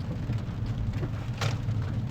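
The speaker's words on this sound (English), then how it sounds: "Yeah, it's raining, man." Steady rain falls outdoors as a continuous broadband hiss with low rumbling underneath, even and moderately loud, with one brief brighter splash partway through and no voices.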